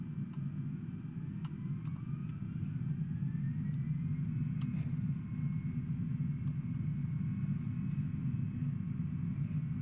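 An Airbus A320neo in Microsoft Flight Simulator rolls for takeoff with a steady, loud low engine rumble and hum, unbroken by speech, plus a few faint higher clicks.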